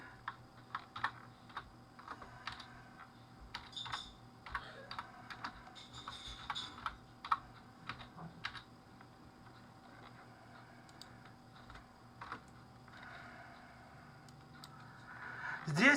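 A name is typed on a computer keyboard, with quiet, close, irregular key clicks and short bursts of tapping separated by pauses.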